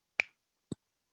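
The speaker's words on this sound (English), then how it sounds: "All you do is snap your fingers." A crisp, sharp finger snap rings out close and clear in a quiet room, followed by a second, duller snap a half second later.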